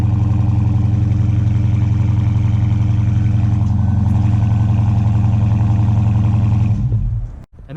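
A 2018 Dodge Charger Daytona 392 with automatic transmission and twin exhaust, fired by remote start, settles into a loud, steady, deep idle rumble that runs unbroken for several seconds before cutting off abruptly.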